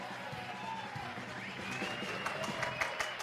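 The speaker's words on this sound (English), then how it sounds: "don't know why people are clapping hands" An audience clapping hands at a live show, scattered claps building into a denser burst of applause with crowd murmur and voices beneath.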